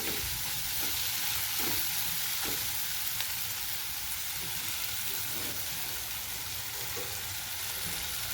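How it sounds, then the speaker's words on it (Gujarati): Spices sizzle steadily in a pan of oil while being stirred into a Gujarati garlic curry, a constant close frying hiss with soft scraping stirs and no voices. "સાંતળી લેવાનું. અંદર મસાલા બધા સંતળાઈ જશે."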